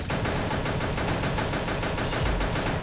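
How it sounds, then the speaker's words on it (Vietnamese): Rapid automatic gunfire from a fire gun in the Pixel Gun video game crackles in a fast, continuous burst of closely spaced shots, loud and steady, with no talking over it. "Chúng ta sẽ cố gắng dùng cái khẩu súng lửa xem thế nào đây."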